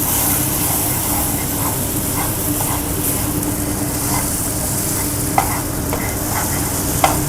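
Raw mango chutney cooks and sizzles in a pan with constant close frying hiss, while scattered soft clicks and scrapes of a spoon stirring sound throughout. No one talks.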